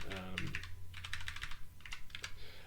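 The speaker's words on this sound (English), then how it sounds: "I can do it with my keyboard." Quick, clustered keystrokes rattle on a computer keyboard during coding work on SerenityOS, arriving in several short bursts over a low background hum.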